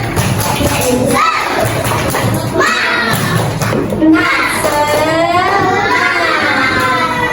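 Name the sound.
children doing a spirit clapping chant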